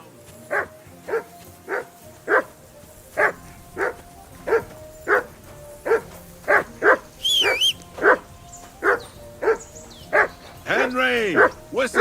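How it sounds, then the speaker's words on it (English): A dog barks repeatedly in Kingdom Come: Deliverance 2, a steady run of sharp, evenly spaced barks close by, with yips and a whimper near the end and a voice talking over part of it. "That barking was a pain in the ass."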